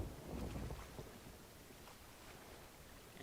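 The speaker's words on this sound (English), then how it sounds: "And there's a storm." Storm wind at sea in Sea of Thieves rushes as a steady, faint broadband roar with no distinct gusts and no talking over it.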